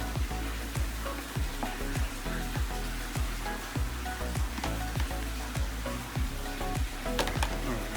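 Onions sautéing on a Blackstone griddle give a steady, close sizzle and hiss throughout, with repeated sharp clicks and scrapes from a spatula working the food.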